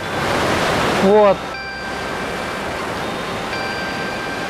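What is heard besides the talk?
Kobansky waterfall in Ossetia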